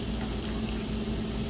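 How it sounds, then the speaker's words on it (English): Noodles stirred in a pot of boiling water at home during dinner prep, giving a steady bubbling, sizzling wash of liquid noise. It is continuous and fairly quiet, with no voices. "just stir my noodles real quick"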